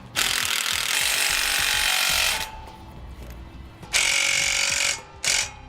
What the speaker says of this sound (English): we'll now secure it in place with our provided self-tapping screws